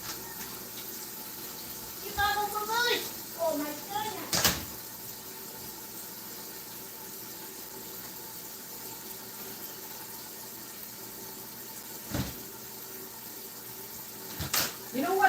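A steady stream of tap water pours into a stock pot throughout, with a few clunks and a brief exclamation from a voice.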